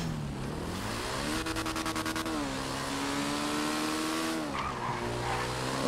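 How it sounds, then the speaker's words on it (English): A motorbike racing at very high speed in GTA 5, its engine a loud steady drone that rises and falls in pitch, with a brief burst of rapid clicking partway through. "Oh, this bike is fast. Oh my god, it's reaching 200."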